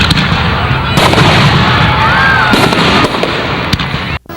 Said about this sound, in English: The fireworks mean it's feature time.